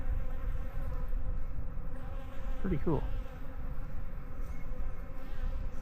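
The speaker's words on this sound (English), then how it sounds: "I heard the hum of the bees flying." Honeybees fly near their hives on a sunny day in a steady, close buzzing drone that holds throughout, with a voice speaking briefly in the middle.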